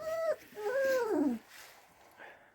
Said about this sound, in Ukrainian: Дуже класні цуценятка